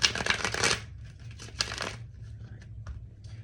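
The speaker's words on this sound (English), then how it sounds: "One more shuffle, please." Tarot cards shuffled in quick riffling bursts, a loud flurry at the start, another around the middle, then softer scattered flicks.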